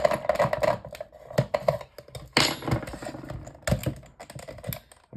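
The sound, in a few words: removing screws from a mini fan heater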